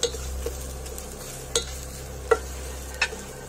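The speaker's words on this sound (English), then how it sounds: "Just add the clove of garlic that we had finely chopped earlier." Finely chopped garlic clove sizzles in a hot pan with fried potatoes, a soft, steady frying hiss broken by a few sharp spatula clicks and taps from stirring.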